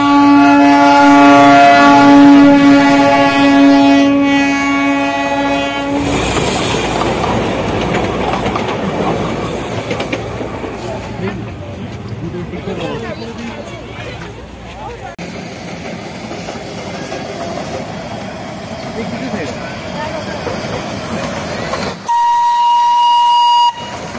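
The Darjeeling toy train sounds a long, loud, tonal horn blast, then heavy rumbling and rolling noise as it passes, with another brief horn tone near the end.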